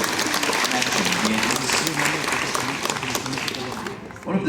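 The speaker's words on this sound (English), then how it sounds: "Let's give him another round of applause" Audience clapping for a glassblower, a steady wash of applause from a crowd holding for about four seconds before tapering off.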